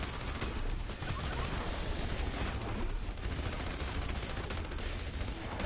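Rapid, continuous minigun fire from Montana, a tank character in the Battleborn video game, a dense loud stream of shots running steadily for several seconds.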